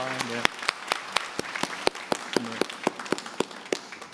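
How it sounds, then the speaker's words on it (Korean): Scattered hand clapping from a Sunday church congregation thanking parents, a thin, uneven patter of individual claps close by, with a voice talking over the start and again midway. "우리 부모님께 감사의 박수를 하도록 하겠습니다"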